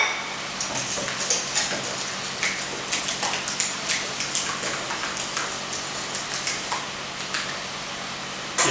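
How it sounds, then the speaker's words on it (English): Brisk whisking of dill into a mustard sauce in a bowl, a fast, even run of light metallic taps and swishes that continues steadily up close. "So now we will whisk in the dill."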